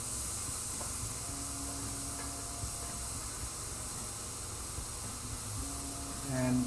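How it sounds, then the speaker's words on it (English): Spray booth extraction drawing air through a mesh opening, a steady close broadband hiss with a low hum running continuously, with faint talk. "That's the air getting sucked out through there."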